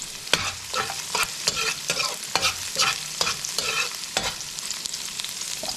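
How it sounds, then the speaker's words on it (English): Garlic sautéing in a pan before shrimp and bok choy go in, with a steady sizzle broken by repeated sharp scrapes of a utensil stirring against the pan, close and fairly loud, with no talking. "So we're gonna start off by sauteing some garlic."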